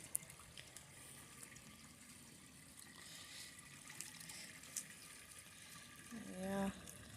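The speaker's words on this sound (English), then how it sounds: "Yeah, one or two water features." A garden water feature trickles and splashes softly, a faint, continuous wash of running water in the open air, with a brief tonal chirp near the end.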